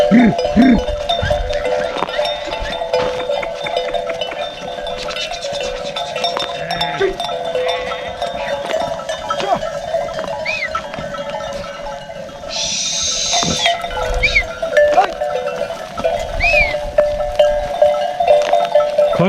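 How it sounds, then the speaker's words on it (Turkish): A flock of about 600 native fat-tailed crossbred sheep on a Yörük livestock farm, giving a steady, dense outdoor ambience with scattered faint bleats and a brief hiss-like burst partway through, no talk. "Burada 600 koyun var arkadaşlar."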